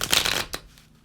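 A quick riffle of a tarot card deck being shuffled, crisp and close, followed by a brief flick and then quiet.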